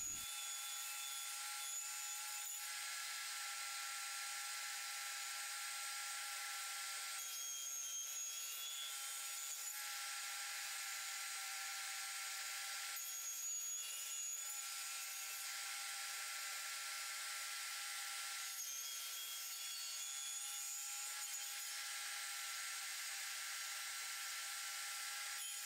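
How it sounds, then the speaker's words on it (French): A power tool cuts 8 mm valchromate board with a steady whining hiss, broken by brief regular dips roughly every five seconds. "Je découpe donc deux morceaux de valchromate de 8 mm"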